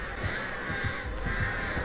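Several crows caw repeatedly in a steady rhythm over a continuous background hum, with no voices, in the video game Dead by Daylight.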